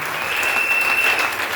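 A church congregation applauding during a Sunday service in Lubumbashi: dense, steady clapping from many hands in a reverberant hall, sustained at an even level throughout, with a faint tone running underneath.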